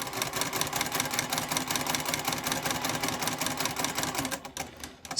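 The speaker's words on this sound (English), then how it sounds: "now let's sew along that seam" Sewing machine stitching steadily along a quilt seam while piecing a flying geese block, a continuous close mechanical whir that slows and stops near the end, with no talking.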